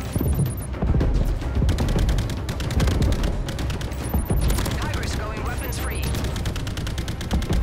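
Dense rocket blasts and rapid gunfire from the VR shooter game Call of Duty: Jackal Assault, loud and continuous throughout, with excited voices talking over the combat noise.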